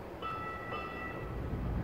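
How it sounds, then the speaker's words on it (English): A light rail train pulls into a city station at Main and 17th Avenue, with a steady low rumble and a couple of thin, sustained bell-like tones ringing over it, close and moderately loud. "Here it comes. It's a light rail, but it's still a train."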